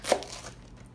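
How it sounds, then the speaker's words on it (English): A single sharp crunching cut through a baked thin-crust pizza is heard, one quick close slice that fades into quiet. "And then, cut however big you want."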